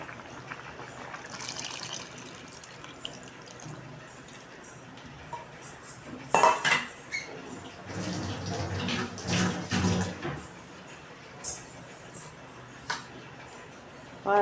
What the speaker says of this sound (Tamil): புளி கரைசலை ஊற்றிக்கலாம்.